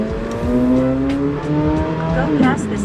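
A Chevrolet Corvette C8 Z06 drives through downtown city streets, its engine droning steadily with a brief rising rev near the end; a voice speaks faintly over the car.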